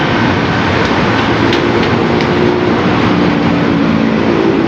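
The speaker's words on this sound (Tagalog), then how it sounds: "Ayan po yung MRT, nasa tabi lang, nasa taas" A continuous loud roar of an elevated MRT train passing in Quezon City, Manila, steady and broadband with faint clattering, no voices.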